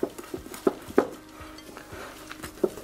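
A whisk or spoon clinks against a bowl in irregular taps and scrapes while raspberry muffin batter with eggs is mixed, close and fairly quiet, with no voices.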